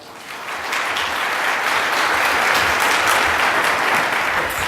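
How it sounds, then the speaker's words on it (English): Audience applause from a live crowd at a talk or seminar, a steady dense clapping that swells quickly and holds loud and even throughout. "Big round of applause"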